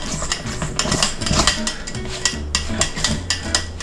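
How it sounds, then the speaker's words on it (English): Spoon stirring flour dough vigorously in a bowl for Southern-style flat dumplings, giving irregular clacks and scrapes against the bowl with no voice present. "And you can stir it in really well."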